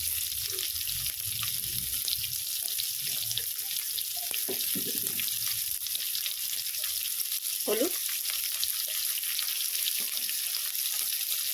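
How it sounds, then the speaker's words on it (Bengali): Potatoes fry in a pan over a medium gas flame, giving a constant hissing sizzle throughout, with occasional utensil scrapes and brief clattering knocks over the top, and no speech. "আলুটাকে একটু আমি ভেজে নিচ্ছি"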